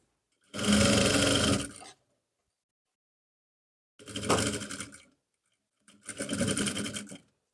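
Sewing machine stitching trouser fabric, sewn up to half an inch from a pocket opening: three separate loud whirring bursts of steady stitching, the first lasting about a second and a half, with silent pauses between, no talk.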